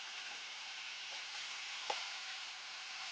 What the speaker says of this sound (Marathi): आता या हाय फ्लेमवर मी थोड्याशा परतणार आहे थोडा वेळ.